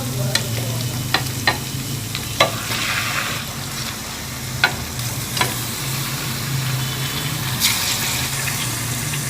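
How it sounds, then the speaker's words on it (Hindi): Chicken pieces with garlic and ginger sizzle steadily in a hot pan while a spoon stirs them, with sharp clicks of the utensil scraping the pan cutting through the continuous frying hiss. "लहसुन अदरक के 1 आध मिनट भूनने के बाद हम इसमें चिकन ऐड कर देंगे।"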